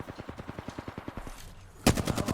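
Rapid automatic gunfire in Apex Legends, a steady burst of evenly spaced shots followed by a louder, nearer volley cutting in at the end.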